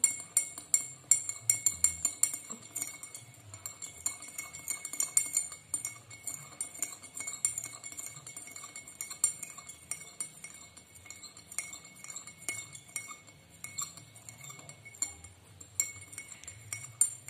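A spoon stirs sugar into hot water in glasses, giving repeated light clinks and tinkles against the glass, quiet and irregular, close by, over a near-silent background.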